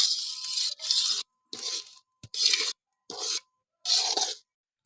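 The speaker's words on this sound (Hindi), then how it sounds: "सूजी को ऑयल में थोड़ी देर के लिए भून लेंगे।" One kilogram of semolina is stirred and roasted in hot oil in a pan, making repeated gritty scraping strokes in close, rhythmic bursts separated by short quiet gaps.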